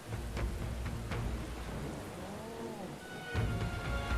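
Steady rain in the video game Metaphor: ReFantazio hisses across the whole stretch, with a low rumble of thunder swelling near the end and a few sharp drip-like ticks early on.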